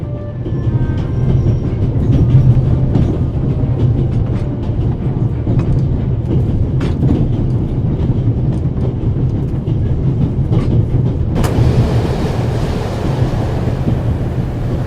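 A Swiss train runs along the rails with a loud, continuous low rumble and the rhythmic clatter of wheels, with wind rushing throughout. The noise briefly grows harsher near the end.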